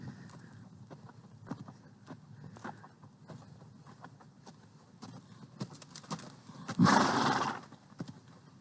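A ranch horse walking with a mind of its own, hooves clip-clopping in an irregular plodding rhythm at moderate distance, with insects buzzing faintly and a brief louder rustle near the end.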